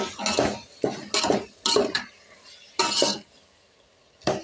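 Pieces of cucumber added to a pan of fried dry fish with tomatoes and onions, heard as close, loud scrapes and clatters of a spoon against the pan that come in repeated bursts.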